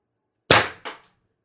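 A single shot from a stock-build 4x12g CO2 blaster firing 4-gram Vindicator darts: a sharp, loud pneumatic crack followed by a quick second burst and a brief tail, with nothing else around it.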